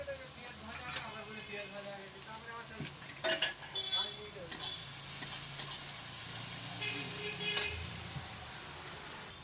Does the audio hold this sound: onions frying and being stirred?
yes